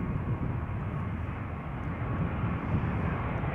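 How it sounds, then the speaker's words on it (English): A British Airways Airbus A319 arriving at Amsterdam Schiphol from London Heathrow makes a steady, moderate engine roar from mid-distance, unbroken through the short stretch. "Here's the BA A319 arriving from London Heathrow."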